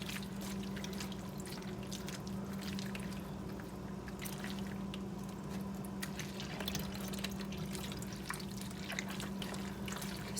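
Tomato juice drips steadily into a bowl beneath peeled garden tomatoes, soft irregular drops over a constant low hum in a quiet indoor space.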